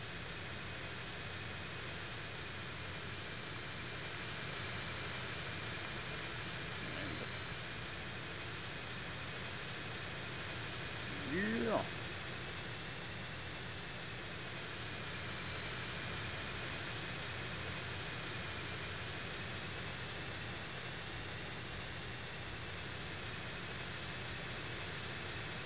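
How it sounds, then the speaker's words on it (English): A fixed-wing airplane engine in GTA San Andreas, a steady even drone holding close and fairly quiet throughout, with a short rising whine partway through. "This plane is super easy to steer"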